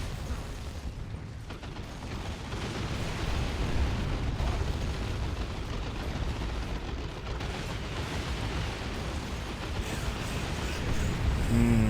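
Tank Buster Barrage artillery strikes in the real-time strategy game Dawn of War II: Retribution, a dense, continuous rumble of explosions and mechanical clatter during a Tyranid battle, loud and sustained with no pauses.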